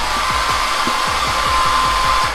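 A hotel bathroom hair dryer blows with a constant loud whoosh and a steady high whine, running uninterrupted from start to finish.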